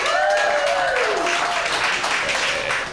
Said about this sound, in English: clap if you've been to Hawaii